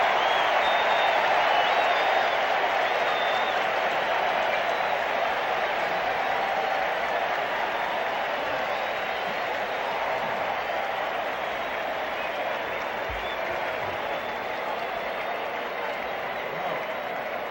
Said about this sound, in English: this big crowd has come alive